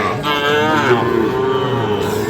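A single long, deep moo from a Sahiwal bull calf, loud and close, holding steady for about two seconds, at Ambari cattle market.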